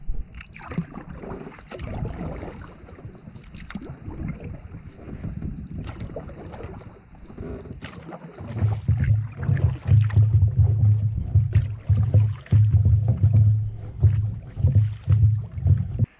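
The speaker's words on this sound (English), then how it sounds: "it's gonna be a long day of paddling tonight" Canoe paddling on the Little Nipissing River: steady water swishes and knocks of paddle strokes under wind buffeting the microphone, growing louder and more rhythmic in the second half.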